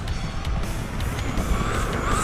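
A ZD Racing MX-07 RC car at full throttle, its electric motor giving a loud, steady high whine with rising pitch sweeps as it speeds past outdoors, continuous for a couple of seconds.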